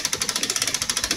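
A spring winder cranking up the mainspring of a vintage 31-day Korean wall clock, a fast, even train of soft mechanical clicks close by, with no voices.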